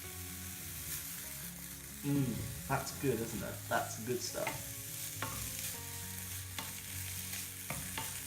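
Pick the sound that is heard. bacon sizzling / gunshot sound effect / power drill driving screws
bacon sizzling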